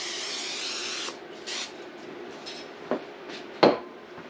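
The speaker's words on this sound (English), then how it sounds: "is a little non-stick spray." Non-stick cooking spray hisses onto a jerky rack in a long continuous burst, followed by a few shorter sprays and light clanks of metal.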